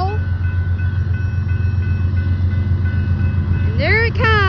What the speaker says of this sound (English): And there it comes. Yeah, train!